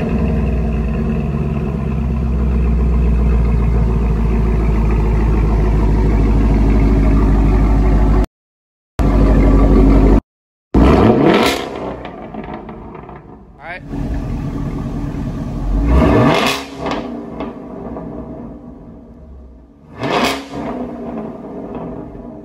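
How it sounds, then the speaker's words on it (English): A 2016 Camaro SS V8 with Borla ATAK exhaust idles and revs hard several times, sharp rising sweeps and crackling bursts, with two brief dropouts partway through. "we finally finished up the exhaust on the Camaro"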